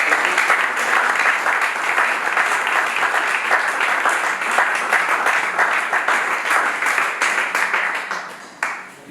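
A church congregation applauds at a worship service, dense sustained clapping from many hands filling the room, steady and loud for several seconds before tapering off at the end.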